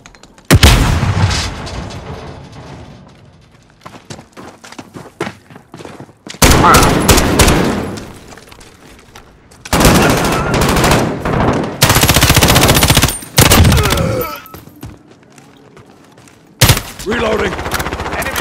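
Rapid automatic gunfire in the Call of Duty: Modern Warfare video game, loud bursts and sustained volleys separated by quieter gaps, with players talking over the fighting.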